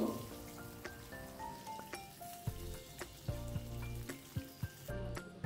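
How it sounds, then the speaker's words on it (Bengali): Pomfret fish frying in hot oil gives a steady sizzle, broken by scattered pops and a few sharp taps of a utensil against the pan, with a dull thud near the end and no talking. "বাকিগুলো আমি একইভাবে ফ্রাই করে নেব।"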